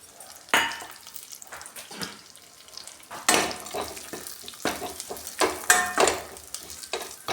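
Grated coconut, raisins and melon seeds roasting in ghee for carrot gajrela, with a soft sizzle broken by uneven loud spoon scrapes and knocks against the pan.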